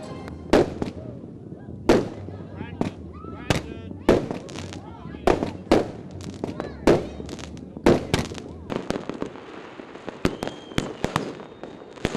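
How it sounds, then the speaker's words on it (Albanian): Fireworks burst over a capital city at midnight on New Year's Eve in a long, irregular series of sharp booms and pops, some close and loud, others distant, over a murmuring crowd. "i gjithë kryeqyteti u ndriçua nga fishek zjarret"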